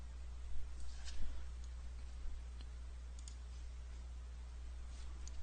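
Computer mouse clicks in card-writing software, a few faint, sharp, isolated clicks scattered over a steady low background hum.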